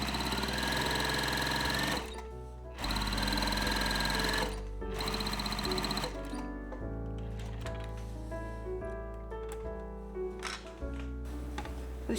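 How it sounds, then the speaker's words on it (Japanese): A sewing machine stitches the curved section of a Liberty fabric blouse sleeve cuff in several loud, steady runs that are broken by short pauses, with no voices. "袖口もカーブの部分のみ縫っておきます。"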